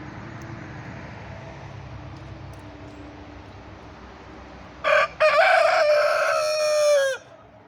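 Backyard chickens: after quiet ambient noise, a short squawk and then a long, loud crowing call from a rooster ring out close by, ending abruptly.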